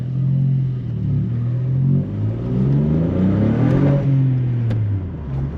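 A VW Up GTI's 1-litre TSI engine revs through a dual-exit straight pipe exhaust, a loud raspy drone rising and falling in pitch over several close revs.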